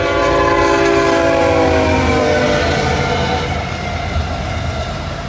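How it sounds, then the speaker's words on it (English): An intermodal freight train barrels past at speed, loud and close, with a sustained horn-like tonal blare and heavy rolling rumble that eases slightly toward the end. "There's a train coming. These trains, I love this spot because these trains barrel through here."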